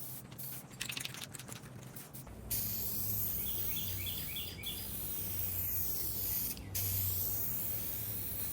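Aerosol spray paint hisses in long, steady bursts as a car dashboard is coated, a Trans Am interior refresh, with short choppy sprays first and then sustained close-up spraying.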